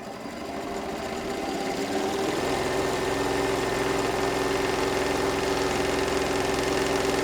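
A Janome Continental sewing machine runs a seam, ramping up quickly into a loud, steady, even mechanical hum that holds at constant speed, with no voices.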